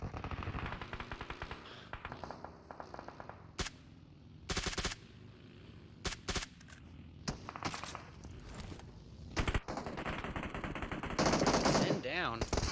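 UMP submachine gun fire in a PUBG Mobile esports match, with bursts of automatic shots at an irregular rhythm and some heavier volleys near the end, set against a steady background of game ambience.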